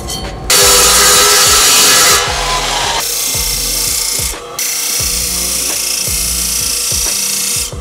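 A power tool cuts a part for a fuel cell mount in a BMW F30 340i, making a loud, close, continuous harsh rasping and grinding that briefly drops in intensity twice before surging again.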